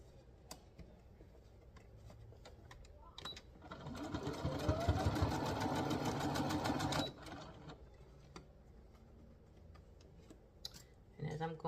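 A sewing machine stitches a garment made from vintage sheets in one steady, rapid run of about four seconds, rising and then stopping, with quieter handling clicks and fabric rustles before and after.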